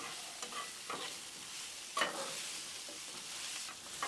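Seasoned potatoes get tossed and mixed on a hot Blackstone griddle, giving a faint, steady sizzle with soft spatula scrapes at intervals.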